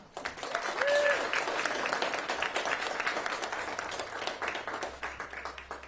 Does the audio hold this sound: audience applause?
yes